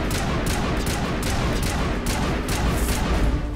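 Dense, continuous gunfire from a Mass Effect battle against Geth, loud and close, with rapid overlapping shots and blasts filling the whole stretch without a break.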